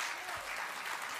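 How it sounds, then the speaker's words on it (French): Brief burst of steady audience applause at a testimonial and song event, dense clapping heard at a distance without breaks. "On peut l'applaudir"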